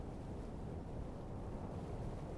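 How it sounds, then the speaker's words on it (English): A generator engine runs in the game Ares at War, a steady low rumbling drone with constant broadband noise, moderately loud and unbroken, with no voices. "Oh, I hear the engine going."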